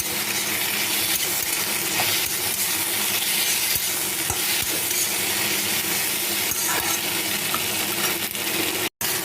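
Fried paneer stirred through sauce and tomato sauce in a pan for chilli paneer, with steady scraping and soft sizzle, close and continuous, broken by a brief dropout near the end.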